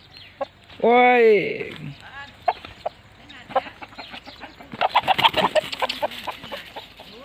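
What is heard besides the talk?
chicken clucking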